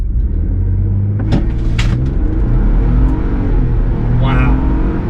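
A Roush Bronco with the 2.7L Performance Pack launches hard in 4-wheel high on a 0-60 run, its loud engine rumbling and climbing through the revs, recorded close from inside the vehicle.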